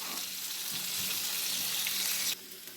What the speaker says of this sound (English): adding them to a hot frying pan, a cast iron frying pan over here